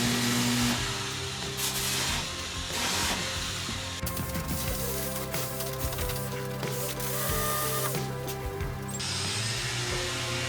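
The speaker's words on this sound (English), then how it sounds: "Now we're gonna sand it down, get it all ready, prepped up, and then we can go on to painting." Power sander working over body filler on a BMW 540i panel, a loud continuous whirring drone that shifts in pitch as pressure changes, with brief grinding surges and no voices.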